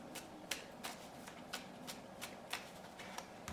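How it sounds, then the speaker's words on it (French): Playing cards for the board game Welcome to the Moon being shuffled, a quiet run of about a dozen crisp riffling snaps in a steady rhythm, close by with no voices. "Donc on mélange les cartes."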